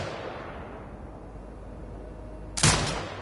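A turret fires in Crime Boss: Rockay City, a single loud blast near the end after a quiet stretch of low game ambience.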